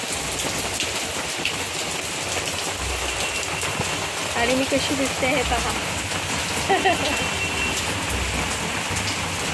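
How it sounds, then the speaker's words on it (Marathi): Heavy rain pours down steadily, a dense hiss of drops drumming on surfaces, while someone briefly speaks over it. "किती पाऊस आहे बघा."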